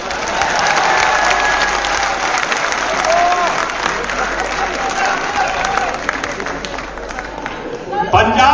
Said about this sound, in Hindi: अब इस पे तो कम से कम ठोको ताली।